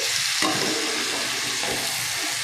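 Mushrooms and tomato fry in a pan with a dense, even sizzle, broken by a brief scrape of a utensil as the mixture is stirred.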